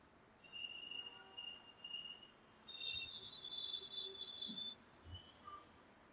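Birds calling at a distance outside a quiet room, thin high whistling notes and brief chirps drifting in over a faint insect-like hum, soft and sparse with no one speaking.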